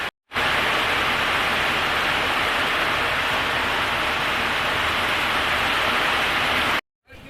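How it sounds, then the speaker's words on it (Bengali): Heavy downpour during a storm on a boat in the Sundarbans river, a loud, unbroken roaring hiss of rain close by that cuts off abruptly at the end. "সামনে পুরো বলে না অন্ধকার হয়ে গেছে, মুষলধারে বৃষ্টি"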